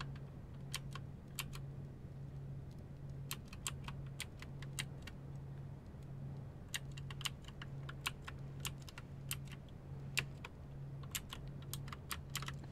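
Keyboard typing effect from the video game Starbound, irregular bursts of quick crisp key clicks over a steady low hum, moderately quiet with no talk.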